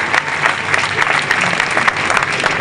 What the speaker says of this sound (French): Je vous prie donc de m'applaudir très fort.